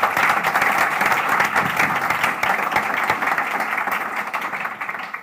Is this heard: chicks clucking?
no